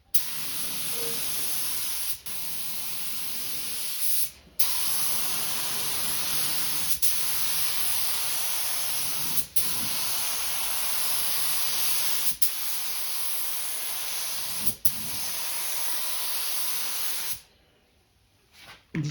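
Rustoleum multi-tone spray paint going on as a heavier coat, a loud, steady close hiss from the aerosol nozzle in long continuous bursts, with brief gaps between passes and a stop near the end.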